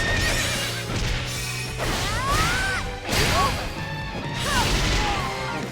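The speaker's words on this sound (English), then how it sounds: "I'm on a horse." Horse neighing in the video game Fire Emblem Warriors, several loud whinnies with rising and falling squeals over galloping hoofbeats, game clashes and whooshes, with a voice briefly speaking.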